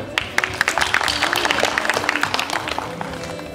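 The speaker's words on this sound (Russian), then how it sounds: "Под ваши аплодисменты" Enthusiastic audience applause greets a vocalist at a Russian artists' mantra concert, many distinct claps crowding together at moderate loudness before thinning slightly near the close.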